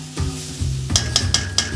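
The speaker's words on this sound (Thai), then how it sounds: "เอาแฮมที่เราหั่นลูกเต๋าว่าลงไปผัดแต่จะชอบให้แฮมเกรียมนิดนึง" Diced ham with onion and carrot hits a hot wok, giving a steady sizzle and a few sharp, evenly spaced scrapes of the spatula against the metal.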